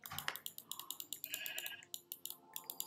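Sheep bleat from a blocky Minecraft-style survival game, a short series of soft, close calls over faint clicking, with no one talking.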